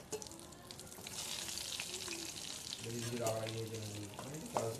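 Eggs fry in hot oil with salt and turmeric, giving a soft, continuous sizzle with scattered crackles and occasional stirring. A faint tonal hum sits underneath, and no one speaks.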